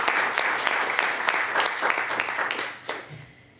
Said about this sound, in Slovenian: dajmo pa en aplavz še za to nagrado